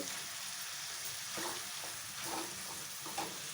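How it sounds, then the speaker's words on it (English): Minced mutton keema sizzles steadily in a pan while a spoon stirs it, with soft scraping strokes over a constant hiss of frying. "Okay, stir this very well."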